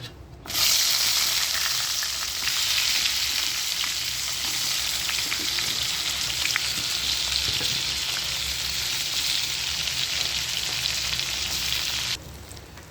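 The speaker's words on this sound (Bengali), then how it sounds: "বেগুনটা নুন মাখিয়ে ওই তেলে ভেজে নেবো" Salted eggplant pieces fry in mustard oil left over from frying hilsa fish, a loud, dense, continuous sizzle that starts abruptly and stays close and even until it cuts off near the end.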